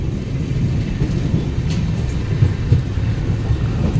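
A steady, loud low rumble and rattle from inside the Tapaswini Express, Hatia to Puri, runs unbroken as the train travels, with no voices.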